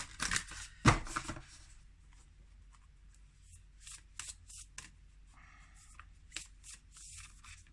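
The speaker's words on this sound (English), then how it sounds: "I'm going to shuffle again." Close riffle of a deck of cards being shuffled, a sharp flurry at first followed by softer intermittent card snaps and slides.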